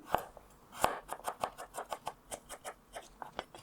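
A knife slices carrots into half-rings on a board, a quiet, steady run of about a dozen crisp cuts close by.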